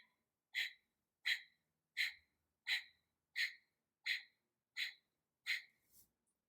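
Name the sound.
slow breathing in and out through the nose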